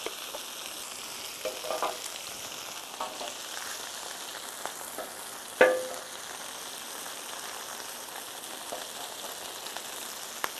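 A hamburger with a little onion sizzles steadily in a pan, a continuous bright frying hiss with light stirring clatter and one sharp utensil knock partway through. No talking.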